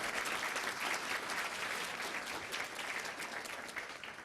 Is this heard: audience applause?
yes